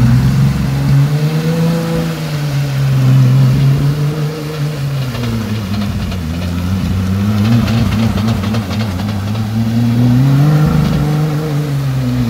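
Jeep engine revving hard and continuously while reversing off-road through mud, a loud, close, sustained drone that rises and falls in pitch as the throttle is worked, with no talking over it.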